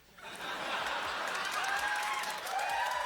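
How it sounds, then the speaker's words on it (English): A studio audience claps with light chuckling during a Kids In The Hall comedy sketch. The dense, steady applause swells quickly after a quiet start and stays moderately loud. "Why are they clapping?"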